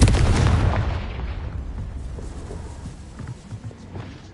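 Confringo spell explosion in the Hogwarts Legacy video game: a single loud burst that quickly decays into a fading rumble.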